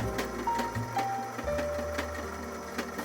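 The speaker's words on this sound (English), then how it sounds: "And then just sew a straight stitch all the way down." A sewing machine runs a straight stitch along a fabric napkin, a steady close mechanical whir with fast regular ticking of the needle throughout, no voices.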